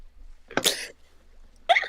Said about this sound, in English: Alright, hiccups.